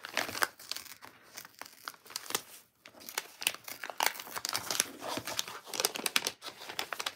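A thin vintage onion paper envelope being handled, giving a run of sharp, irregular crinkles and crackles with brief pauses, close and alone with no voices.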